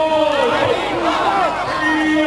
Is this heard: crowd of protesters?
yes